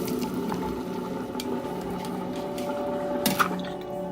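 Fermented cassava is rinsed in water, giving soft, quiet sloshing and squishing with faint drips and a low steady background hum.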